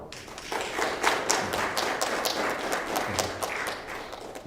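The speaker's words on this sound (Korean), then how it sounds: "여러분 큰 박수로 또 환영해 주시기 감사합니다" Congregation at a Korean Sunday service at Dongwon Church applauding to welcome a pastor; a dense, sustained round of clapping at a moderate distance, steady throughout with no voices over it.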